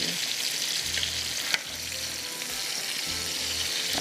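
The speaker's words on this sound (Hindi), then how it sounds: "इस तरह से हरी मिर्चों को बस एक साइड से थोड़े से फ्राई हो रहे हैं" Green chillies fry in a pan for methi kebabs, a steady close sizzling hiss with soft low bubbling underneath and one brief sharp click partway through, no voices.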